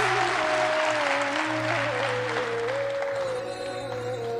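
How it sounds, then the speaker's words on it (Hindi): Steady, dense applause, a continuous wash of clapping that fades slightly toward the end, under a sustained electronic tone. "मुझे ये आर्टिफिशियल ताली क्यों बजाते हो भाई?"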